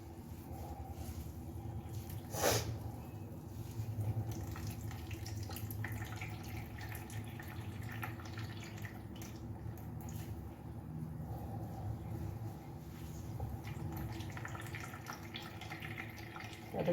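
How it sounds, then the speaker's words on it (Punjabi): Water running and dripping steadily out of chopped vegetables being squeezed for Manchurian, a continuous wet trickle with a brief sharper splash near the start and no talking. "ਦੇਖੋ ਕਿੰਨਾ ਪਾਣੀ ਨਿਕਲ ਰਿਹਾ ਇਹ"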